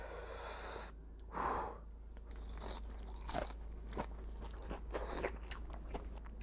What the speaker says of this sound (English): of course you gotta taste it fresh out of the oil